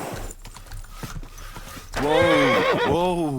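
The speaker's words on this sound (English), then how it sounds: "Easy, good horse." Horse in Kingdom Come Deliverance 2 lets out a loud, near whinny after a stretch of softer game sounds and hoof movement.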